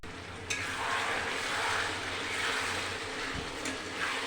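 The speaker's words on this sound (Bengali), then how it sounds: "ঢাকনাটা আবার একটু খুলে নাড়াচাড়া দিয়ে নেব।" Chicken sizzling in a covered pan in a Bengali home kitchen as the lid comes off and the pieces are stirred, a soft steady frying hiss with a few faint scraping clicks.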